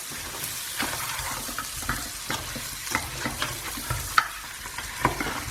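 Fennel and ginger fry in oil for mutton rogan josh while a spoon stirs them through, giving a quick run of close scraping strokes over a constant crackling sizzle.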